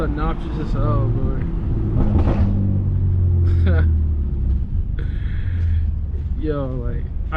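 Straight-piped BMW F80 M3 exhaust rumbles low and heavy in the background, swelling through a steady pull with a few short pops, under nearly continuous excited talking.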